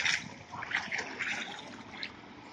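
River water trickles and splashes softly near a small paddled boat crossing a river, with faint intermittent sloshing bursts at low level.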